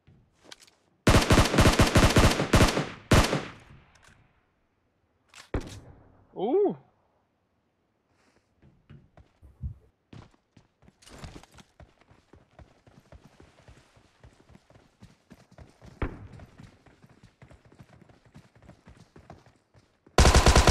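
Gunfire in the battle royale game PUBG, including a Thompson submachine gun: a rapid burst of loud shots at the start, then scattered single shots and distant popping amid footsteps and game noise.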